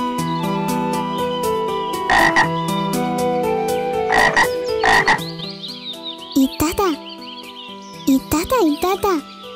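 Loud, close frog croaks come in spaced bursts over a tonal background, and someone talks excitedly in the second half between further croaks.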